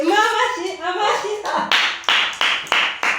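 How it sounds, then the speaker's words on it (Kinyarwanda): Several sharp hand claps ring out one after another, close and loud, in a playful home game session, following a stretch of children's chatter. "Amashyi."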